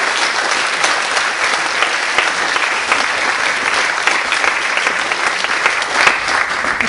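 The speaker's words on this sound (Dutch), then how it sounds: "een vraag en applaus voor Edith Bloemen." A crowd at the unveiling of a sculpted bust claps steadily in dense, continuous applause, loud and even for several seconds.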